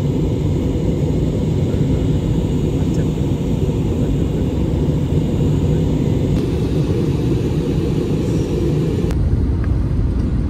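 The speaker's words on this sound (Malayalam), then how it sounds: "ഏകദേശം ഫ്ലൈറ്റ് താന്നു, ഏകദേശം ലാൻഡിങ്ങിലാണ്." Inside an airliner cabin on descent toward landing, a constant loud low engine and air roar drones on without a break, with no voices standing out.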